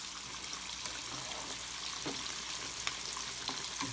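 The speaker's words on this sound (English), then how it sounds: "Okay, beans are now coming to a boil." A pot of red beans comes up to a boil, giving a soft, continuous bubbling hiss with faint scattered pops, low in level and heard alone without speech.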